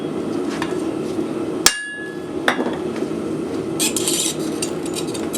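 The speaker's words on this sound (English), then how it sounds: "I'm going to set that rivet a little bit better." Hammer blows setting a rivet on hand-forged metal tongs in a blacksmith's shop, a few sharp ringing metallic strikes spaced apart, one especially loud and close, over a steady background hum.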